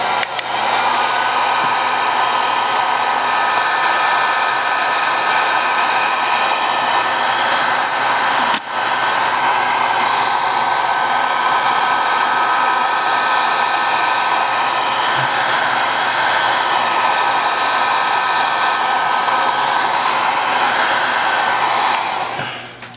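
A heat blower runs loudly and steadily on the back glass of an LG V30 phone, its continuous whirring roar holding nearly unbroken for the whole stretch, with one brief click partway through.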